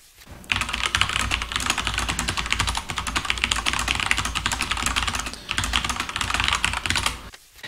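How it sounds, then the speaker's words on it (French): Rapid, steady typing on a mechanical computer keyboard, close and loud with dense clacking keystrokes and brief pauses. "c'est pas que mon clavier est silencieux. Quoi, c'est un clavier mécanique"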